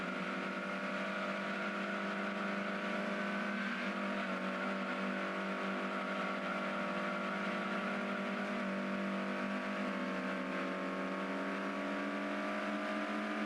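Car engine in the racing game Gran Turismo 2 drones steadily and loudly throughout, a sustained high-revving tone with layered harmonics that shift slightly as speed changes, no voices over it.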